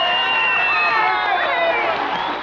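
Cartoon crowd applause and cheering for the Mountie Dudley Do-Right, a loud, dense wash of clapping and shouting voices that holds steady and then begins to fade.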